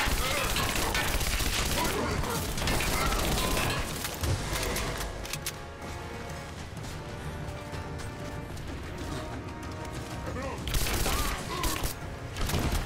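A powerful gun fires repeatedly in Rise of the Tomb Raider, set in the ancient city of Kitezh, with heavy blasts and crashes loudest at the start and end and a thinner, quieter middle stretch.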